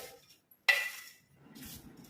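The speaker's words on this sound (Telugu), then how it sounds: "చెయ్యి కానీ స్పూన్ కానీ పెట్టి బాగా కలుపుకోవాలి." A sweet urad dal and jaggery mixture for ghee sunnundalu is mixed by hand or spoon, giving one sharp close scrape followed later by a softer rustling stroke, with no talking.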